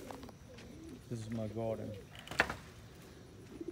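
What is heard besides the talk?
young birds, pigeons or doves cooing in a garden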